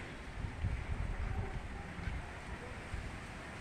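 A breeze blowing in at an open window makes a faint, low, uneven rumble with gentle gusts that rise and fall throughout, and no clear speech.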